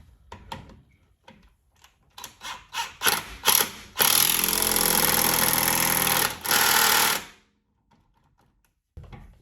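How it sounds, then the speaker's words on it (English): An impact or power tool tightening wheel bearing bolts on a 2015 Audi A6 with a 19 mm socket: a few short ratcheting bursts build into a long, loud, steady whirring run, then a second run, and it stops abruptly. "I'm gonna use back this 19 and start tightening up these bolts"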